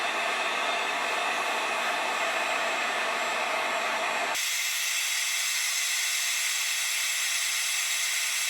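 A heat gun blows hot air onto a Kydex sheet in a continuous, close, loud whoosh that changes tone partway through, with no voices.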